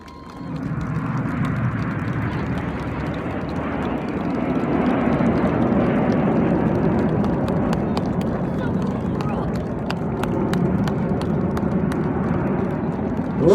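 Jets of the RAF Red Arrows aerobatic team roar overhead at the 2025 Blackpool Airshow, a loud sustained rumble swelling and holding under crowd noise and announcer-style speech.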